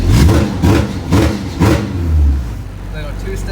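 A Honda H22 stroker car engine pops and bangs in quick bursts on a two-step limiter, loud and close, with a voice speaking over it.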